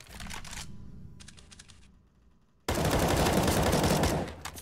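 Rifle spray gunfire in CS:GO, heard as rapid bursts of shots that briefly drop away before a sustained, loud automatic spray bursts in and runs to the end.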